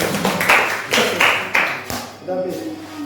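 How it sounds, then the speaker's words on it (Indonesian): A classroom of students claps for a group of classmates returning to their seats, a few short bursts of clapping close by, followed by a voice speaking. "Beri tepuk tangan dulu untuk kelompok"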